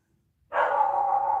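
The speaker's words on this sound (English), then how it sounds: "My dogs are going nuts." A dog barks nearby, one sustained loud bark or howl-like yelp rising abruptly out of silence and holding steady.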